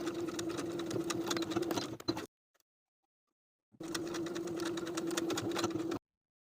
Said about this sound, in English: We're going to edge stitch along that folded inner edge.